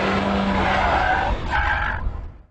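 A Lotus Exige sports car is driven flat out in sixth gear at about 60 mph, giving a loud, steady, close roar with a rushing, whining edge that holds, then drops away near the end. No one speaks.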